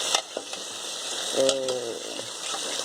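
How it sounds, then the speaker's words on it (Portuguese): Beef tongue fries in a pan with colorau, chimichurri, pepper, cumin, turmeric, beef stock powder, chili flakes and garlic. A soft, steady sizzle runs under a brief voice near the middle. "Estou dando uma fritadinha nela."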